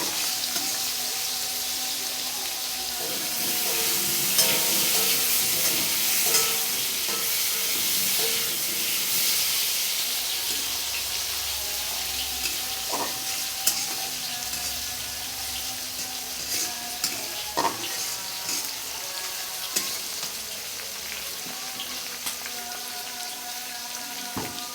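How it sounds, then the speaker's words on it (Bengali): Spices and goat meat fry in a pan for a Bengali curry, giving a steady close hiss and sizzle broken by occasional clinks and scrapes of stirring, with no voices. "এগুলোকে সুন্দর করে আমি নেড়ে চেড়ে একটু ভেজে নিচ্ছি"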